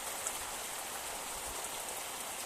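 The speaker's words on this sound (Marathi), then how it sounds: "पाऊस आज पडलेला आहे जोरात मुसळधार अवकाळी पाऊस" Steady heavy unseasonal rain pours down in a continuous dense hiss in Konkan, with no voices.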